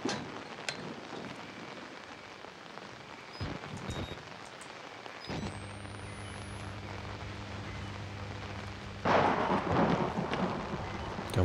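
Thunder rumbling during a lightning storm in the video game Outlast, a low rolling crack over steady rain with a sharp louder burst near the end, no talk.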